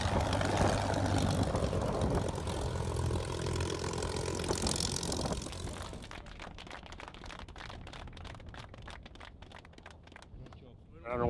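A restored P-51C Red Tail fighter's piston engine runs steadily, a loud droning roar that fades after several seconds into quieter sputtering, rhythmic popping as it winds down.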